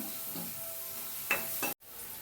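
Chilli and onion frying in a pan, a steady hiss of sizzling with a few louder stirring scrapes near the end, followed by a brief cut to silence.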